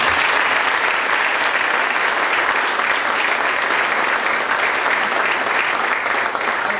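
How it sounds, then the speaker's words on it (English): Sustained, dense audience applause for a keynote speaker at a campus conference, steady and loud throughout with no break. "let's give Liz another round of applause"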